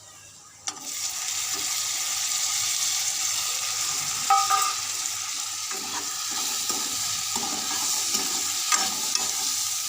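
Tomatoes tipped into a hot frying pan, a sudden drop followed by steady loud sizzling and frying, with scraping stirs and occasional clinks of the spoon against the pan.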